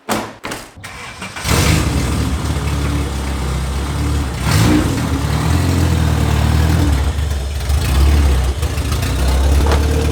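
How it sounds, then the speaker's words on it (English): A Honda Civic EG with an open header and exhaust leak starts with a couple of cranking bursts, then settles into a loud, raspy, close idle with slight revs. "The EG is basically a running and driving exhaust leak"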